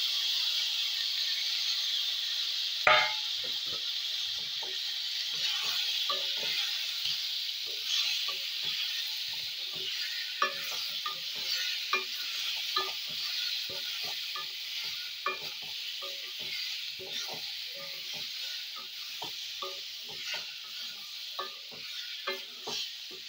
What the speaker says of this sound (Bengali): এগুলো সব ভালোভাবে ভাজা হতে আমটাকে দিয়ে দিলাম।